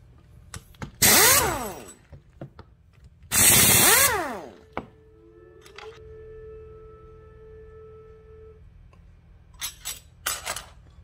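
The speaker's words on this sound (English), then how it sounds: "Take it apart with a 5/16 socket." A power tool with a 5/16 socket whirs in two loud one-second bursts while taking apart a Honda starter, followed by a quieter drawn-out whine and small metallic clicks and taps near the end.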